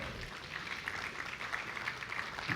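Steady applause from a church congregation, a continuous, faint, even patter of many hands clapping, heard alone without talking.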